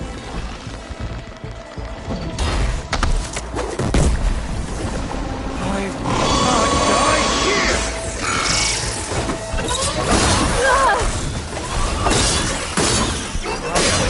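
Robotic machines attack in Horizon Forbidden West amid metallic crashes, shattering impacts and mechanical whirring. The noise is loud and busy throughout, with booms and clanks layered over a rumbling bed.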